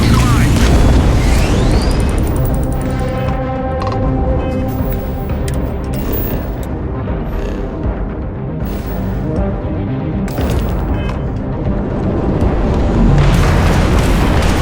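Ship weapons fire and explosions in the space game Starfield: heavy booming blasts and bursts roll through a dense, loud battle, with radio-style voices speaking over the combat.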